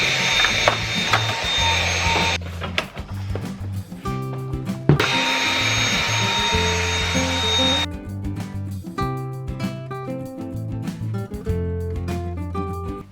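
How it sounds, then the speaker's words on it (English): A vacuum cleaner cleaning a knitting machine whooshes in two long bursts, with mechanical clicking and rattling in between. "And this one is obviously going to need the vacuum cleaner."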